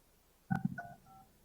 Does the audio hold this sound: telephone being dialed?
yes